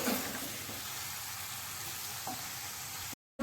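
Masala is worked into pieces of river pomfret fish, giving a steady soft wet hiss and faint stirring scrape throughout, fairly quiet, with no talk, ending abruptly.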